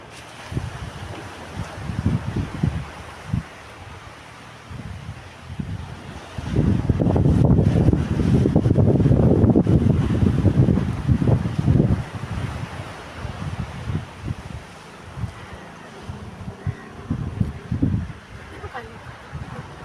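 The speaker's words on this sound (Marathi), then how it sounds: "आज म्हणजे अंगावर काटा येतोय एवढं वार आहे" Strong wind gusting hard in an open village setting, buffeting the microphone in rough surges that build to a long, loud roar through the middle before easing into shorter gusts.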